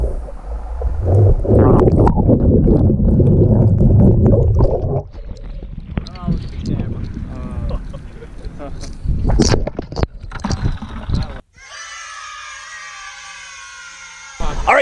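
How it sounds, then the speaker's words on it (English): A boat passes overhead, heard underwater near a crab net: a loud, deep engine rumble that then drops away into gurgling and bubbling underwater sounds, with a brief bright burst at the end. "And these guys are about to hear another boat."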